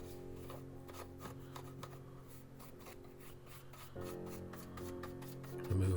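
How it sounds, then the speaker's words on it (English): A soft bristle brush scrubs foam cleaner into the plastic casing of a handheld CB radio, giving a quiet, rhythmic rubbing and rasping of repeated short strokes over a low background hum. "bit of foam cleaner, a nice soft bristle brush, get into all the plastic lines"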